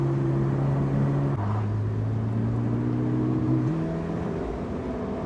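A Porsche 918 Spyder hypercar engine hums with a loud, steady tone, its pitch stepping down and then back up once, with no talking.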